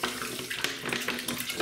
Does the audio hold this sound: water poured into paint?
yes